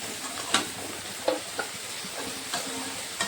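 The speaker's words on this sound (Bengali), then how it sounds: "সবজিগুলোকে আমি এখন ভালো করে একটু কষিয়ে নেব মশলার সঙ্গে" Carrot, potato, cauliflower, beans, ridge gourd and eggplant fry with spices for khichuri under a steady sizzle, with a spatula knocking and scraping the pan in scattered close clicks.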